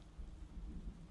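Steady rain falling in the Zero Parades video game, a low soft wash with faint rumble, quiet and continuous for a brief moment without voices.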